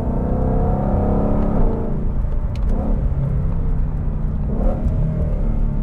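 A 2020 Ford GT500 muscle car's engine revs while driving on a hot day, a loud, steady deep rumble heard from inside the car that swells and eases slightly as the throttle changes.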